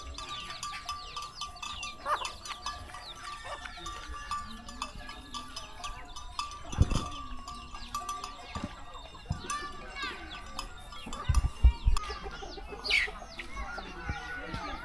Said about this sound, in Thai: เบิ่งหมูไก่มากินเศษอาหาร